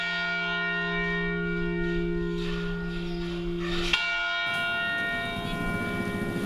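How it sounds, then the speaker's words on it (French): The bell of the only church in Tibet, in Yorkalo village, rings out with a long, resonant humming tone that sustains and then cuts off, followed by another fainter strike, heard alone outdoors. "Et voilà que l'on entend un son de cloche à l'entrée du village."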